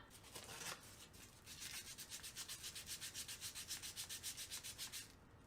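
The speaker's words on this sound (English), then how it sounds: "Let's start sanding." Rhythmic hand sanding of a resin keychain, quick back-and-forth scratchy strokes at a steady pace, close and fairly quiet.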